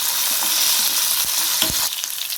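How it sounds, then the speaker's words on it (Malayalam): Black peppercorns, shallots and dried red chillies frying in a pan for chembu (taro) masala, a steady close sizzle with a few stirring scrapes and clatters near the end. "നമുക്ക് അഞ്ചാറ് മുളക് ഇത്രയിട്ട് ആദ്യം വറുക്കാം"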